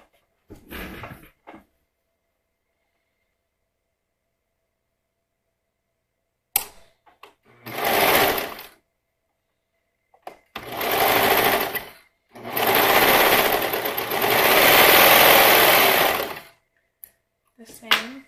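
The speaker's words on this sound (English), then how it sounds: "I'm going to stitch that on my serger." A serger stitches fabric in several separate bursts of loud, rapid mechanical whirring, some short and some several seconds long, with silent pauses between them.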